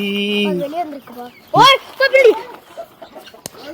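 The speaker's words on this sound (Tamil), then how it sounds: "கோழி கோழி" Chicken clucking and squawking nearby, several short bursts in quick succession, with a person's voice mixed in.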